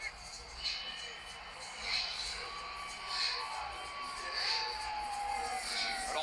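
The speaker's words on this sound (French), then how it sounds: "Il vient d'entrer sous les acclamations du public." A large arena crowd cheers and whoops as Irish fighter Conor McGregor walks out for his bout against Donald Cerrone, a steady roar swelling in waves, with an announcer's voice talking over it.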